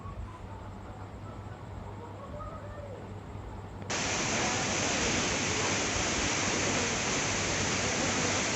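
Kanchenjunga Falls in Pelling, Sikkim, roars as a steady, hissing rush of falling water that jumps sharply louder partway through and then holds at full strength.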